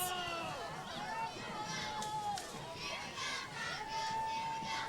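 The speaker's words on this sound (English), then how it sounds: "Some cheering going on." Crowd noise along a town's Fiesta Day parade route, with scattered cheering and children's shouts. Voices talk throughout at moderate distance, and the crowd stays steady and fairly faint.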